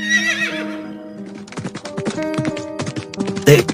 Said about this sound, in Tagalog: nakakarinig ng huni ng isang tumatakbong kabayo